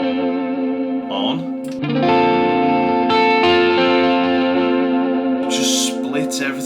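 Electric guitar played through a Line 6 Helix with stereo delays engaged, sustained chords ringing out with echoing repeats and a wash of modulation and reverb, steady and fairly loud.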